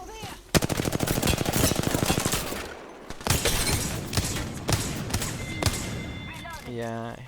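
Rapid automatic gunfire from hip firing in a video game, with dense bursts of shots, a short pause, then more scattered firing, ending with an electronic tone.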